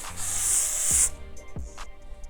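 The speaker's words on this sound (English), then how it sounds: "I'm gonna just spray it and spread it a little bit." A sustained hiss of a freeze-hold hair spray aerosol for about a second, applied at a wig hairline, followed by a few soft thumps and handling noises.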